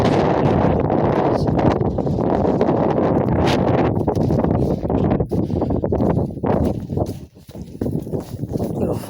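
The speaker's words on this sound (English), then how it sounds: "It's windy as hell out here today." A blizzard wind in Menominee, Michigan blasts the microphone with a constant low roar and rough buffeting that eases slightly toward the end, with no clear voices.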